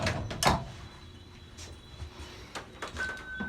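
Liftomatic hydraulic elevator door in a Chicago building sliding, a few soft clunks and rattling thumps at close range, followed by a faint electronic chime tone.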